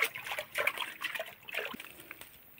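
A child splashes and trickles water while washing hands outdoors on a farm, irregular close splatters and drips in a quick uneven rhythm, fairly faint and alone.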